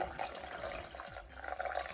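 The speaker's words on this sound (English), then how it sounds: "pour our additional 4 cups of water over the strainer" Steady rushing and splashing of water pouring through a mesh strainer over ginger, a continuous trickling wash at moderate volume, no voices.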